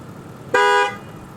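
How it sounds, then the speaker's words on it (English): A car horn gives one short, loud honk of under half a second to scare off a deer on a road through the White Hills, with faint engine idle around it. "I'll honk the horn, see if I can get him to go."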